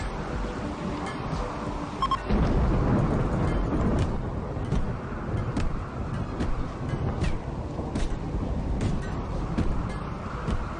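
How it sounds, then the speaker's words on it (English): A thunderstorm in the video game RimWorld, heard as steady, loud, rumbling wind and rain noise that continues through the whole stretch, with occasional sharper crackles and no talking. "the storm's coming in"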